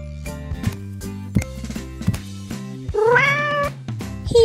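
A toy cat gives one drawn-out electronic meow in the middle, over a steady tonal musical jingle from a toy kitchen play set.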